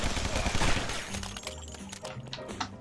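Gunfire and breaking sounds from the video game Guns Gore & Cannoli, a dense burst of shots and crashes at the start that thins into scattered cracks over a low rumble of game audio.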